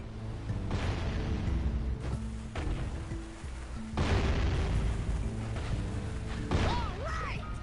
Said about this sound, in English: I need him to shoot where I am to blow up the crate.